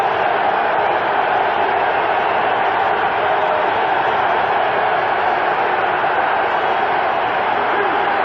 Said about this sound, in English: Now the crowd gets back into the ballgame here at Three Rivers.